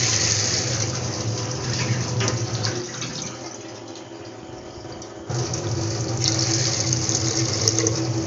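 Water pours into a cooking pan while dhaba-style egg tadka is being made, a steady splashing gush that dips briefly midway and then resumes at full strength.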